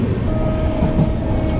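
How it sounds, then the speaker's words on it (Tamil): The Chozhan superfast express rumbles steadily through Alappakkam railway station, a dense continuous roar of wheels and carriages heard up close from aboard. "அடுத்ததாக ட்ரெயின் இப்போது கிராஸ் ஆகுறதாங்க ஆலப்பாக்கம் ரயில்வே ஸ்டேஷன்."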